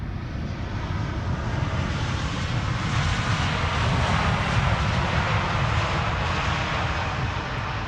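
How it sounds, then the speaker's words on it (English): Emirates Airbus A380 jet engines roaring at Schiphol, a steady broad rumble that holds evenly throughout at moderate distance, with no voices. "The Emirates A380 is underway"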